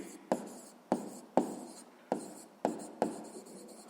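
Handwriting during a sixth-grade math lesson, with six distinct scratchy pen or chalk strokes in quick irregular succession, each a sharp onset fading out, close and fairly quiet.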